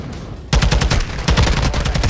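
Rapid automatic gunfire in Call of Duty DMZ, a loud close burst of repeated shots starting abruptly after a quieter moment and continuing in quick rattling volleys.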